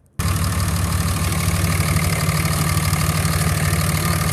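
A Cummins 24-valve turbo diesel engine starts suddenly and idles steadily with a deep, even rumble and faint ticking, close by in a shop.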